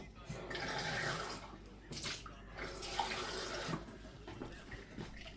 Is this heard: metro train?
no